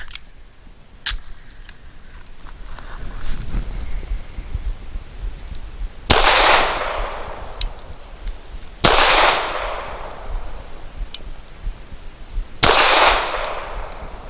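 Pistol shots from a Cosaint Arms COS11 firing Remington UMC leadless 124-grain ammunition at a range: several loud, sharp reports spaced a few seconds apart with ringing tails, plus fainter distant shots between them.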